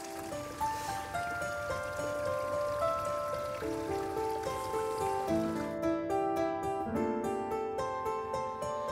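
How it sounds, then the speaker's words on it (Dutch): Steady, gentle trickling and rippling of water from a Japanese garden water feature, continuous and close, with a faint tonal ring over the flow and no voices. "het rustgevende geluid van het kabbelende water"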